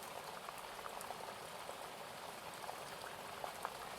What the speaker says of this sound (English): Sound of the rain increasing on the tent